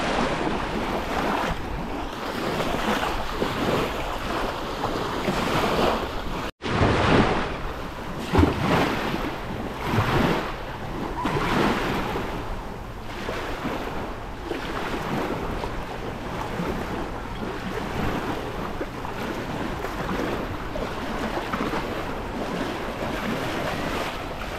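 Sea waves wash onto the beach at Sithonia, Greece, a broad rolling surf noise with wind buffeting the microphone, swelling and receding over about twenty-five seconds with no voices.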